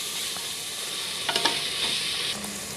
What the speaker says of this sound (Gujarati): ઘડીક આપણે તેલમાં તળવા દઈશું